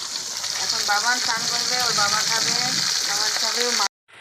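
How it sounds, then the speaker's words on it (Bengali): Steady sizzling of pointed gourd frying in hot oil in a pan, loud and close, with a speaking voice woven through most of it before a sudden cutoff near the end. "পটলটা ভেজে তুলে রেখে তারপরে আলু পেঁয়াজ কলিটা ভাজবো"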